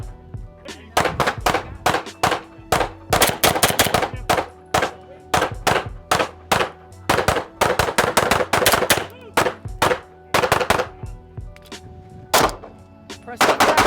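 Pistol shots ring out one after another at a shooting range during close-quarters training, loud sharp cracks in irregular bursts and quick pairs across the whole stretch, with faint ringing between them.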